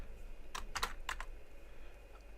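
Keys on a computer keyboard clatter in a quick burst of a few taps, then a short pause and two more strokes, close and moderately loud over a low room hum, with no talking.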